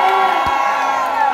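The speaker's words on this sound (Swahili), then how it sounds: "Wapi makofi ya Mheshimiwa Kawajiko?" A crowd at a public gathering cheers and shouts loudly and continuously, with excited voices and whoops blending into a dense, steady roar from start to finish.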